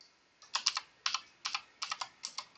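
Mouse clicks during 3D modelling work come in quick paired and triple bursts, crisp and close, separated by short pauses.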